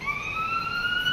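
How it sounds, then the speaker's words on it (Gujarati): A science centre exhibit plays an ambulance siren: two steady, slightly rising electronic tones holding throughout at moderate loudness, with no voices over it. "એમ્બ્યુલન્સ આવી ગઈ."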